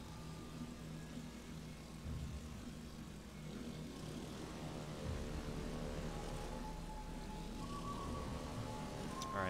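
Propeller engines of torpedo planes in a naval video game, a steady droning hum with a tonal whine that shifts in pitch as the aircraft move, under a constant rumbling bed, with no talk.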